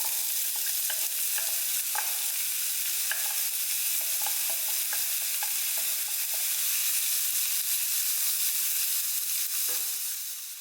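Onion sizzles and fries in olive oil in a pan, a steady bright crackle with repeated scraping stirs of a utensil, close and moderately loud with no voices.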